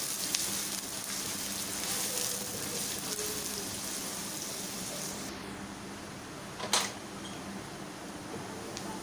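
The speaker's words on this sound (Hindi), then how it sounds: "चॉप प्याज को हम इतनी देर पकाएंगे कि हल्की सी नरम हो जाए।" Chopped onions fry in a pan with a steady, quiet sizzle that runs on evenly like light rain, joined by one brief clatter near the end.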